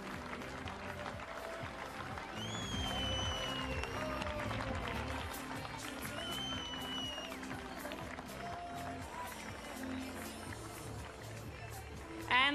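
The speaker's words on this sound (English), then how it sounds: "Ladies and gentlemen, please keep the applause coming." Sustained crowd applause at the awards ceremony of the 2019 Cadel Evans Great Ocean Road Race, a women's road cycling race in Geelong, running steadily under a PA voice, with music and crowd noise mixed in.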